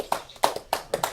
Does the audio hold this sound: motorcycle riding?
no